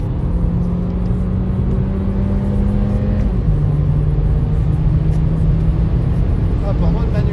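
Loud, continuous drone of an Audi A3 40 TFSI accelerating on a wet road, steady engine pitch with one quick paddle-shift drop partway through, under someone talking over it.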